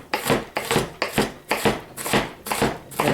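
A knife chops an onion very finely on a board, six or seven crisp rhythmic strokes about half a second apart, close and clear with no talk.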